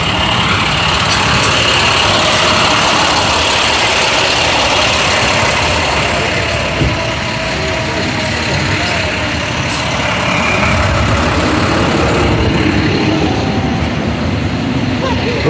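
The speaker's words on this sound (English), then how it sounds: "Ooh, truck 234." A gas company truck idles at a street emergency scene, a loud, steady, rumbling drone that holds for the whole stretch with nearby traffic noise, and no clear talk over it.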